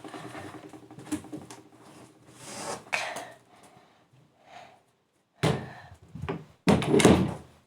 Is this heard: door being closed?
yes